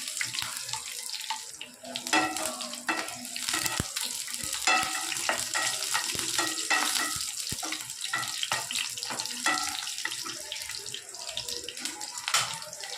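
Curry leaves, four or five dried red chillies and a green chilli fry in hot oil as a tempering for ridge gourd poriyal, giving a steady close crackling sizzle with scattered sharp pops and stirring clicks, no voices.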